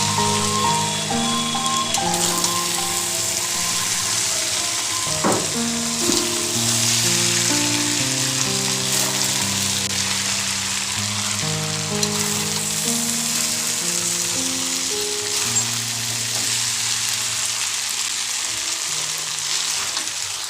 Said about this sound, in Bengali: চাউমিনটা ঢেলে দিয়েছে এবার ভালো করে মিক্স করতে হবে